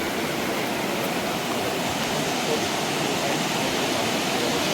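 A river flows past a riverbank in Marburg, Germany, making a steady, close rushing wash of water that holds constant throughout with no pauses.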